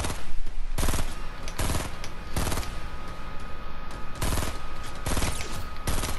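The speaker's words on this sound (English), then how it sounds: "Are you ready to shoot at him?" Gunfire in the video game Fortnite, played on PS4: repeated loud bursts of rapid shots. Between the volleys there is a short steady stretch of game noise, and no one speaks.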